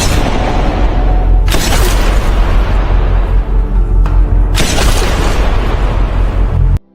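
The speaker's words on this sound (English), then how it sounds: "Afterwards, Kwak-Wa fires his gun into the air to lure Chan" Gunshots fired into the air in a film scene ring out as loud, heavy booming blasts, a few big reports with long rumbling tails filling the clip.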